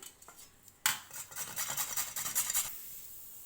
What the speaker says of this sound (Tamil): ஒரு கேரட் வச்சுருக்கேங்க, அதை நம்ம இதில் திருவிக்கலாம்